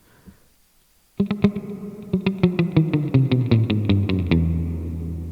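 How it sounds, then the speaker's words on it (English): Electric guitar tremolo picking: a rapid, steady stream of bright plucked notes with a washy reverb tail, beginning after a brief quiet moment. "Tremolo picking with a finger slide."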